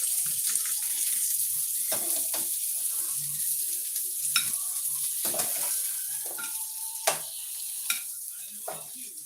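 Sausage lifted out of a sizzling frying pan with a utensil: steady frying hiss throughout, punctuated by several sharp scrapes and clinks against the pan, close and moderately loud.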